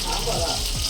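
Eggplant sizzles and fries in oil in a pan on a gas stove while being stirred, giving a steady close crackle with faint scraping sweeps as the pieces are turned.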